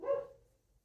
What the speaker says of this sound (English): If you can hear a dog barking,